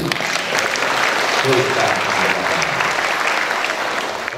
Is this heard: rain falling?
no